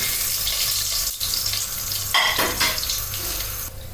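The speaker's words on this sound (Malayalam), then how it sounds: "നാളികേരം ഒന്ന് ബ്രൗൺ കളറാകുന്നവരെ നമുക്കൊന്ന് മൂപ്പിച്ചെടുക്കണം." Grated coconut roasting in a pan, a steady, hissy sizzle with a brief burst of louder scraping or stirring midway, close by and without any voices.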